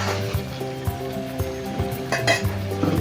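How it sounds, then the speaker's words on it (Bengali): Shrimp curry with vegetables sizzles in a pot as the lid comes off and a spoon stirs, giving light scraping and clinks over a steady close frying hiss, with no talk. "এবার আমি ঢাকনাটা তুলে বন্ধুরা একটু নেড়ে চেড়ে নেব।"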